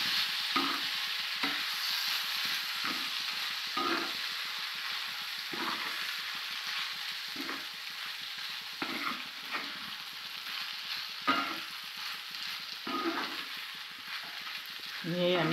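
Beef dropped into hot, cleared oil fries with a loud continuous sizzle, broken by regular scrapes and stirring knocks every second or so, close up with no voice.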